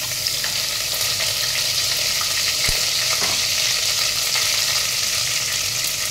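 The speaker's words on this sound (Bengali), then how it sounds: "এবার এই তেলের মধ্যে, ফোড়নের মধ্যে গরম মশলা দিলাম আর আদা বাটা দেব।" Garam masala and ginger paste sizzle steadily in hot oil over a tempering of whole spices, a close, continuous crackling hiss with a brief sharp pop partway through and no talking.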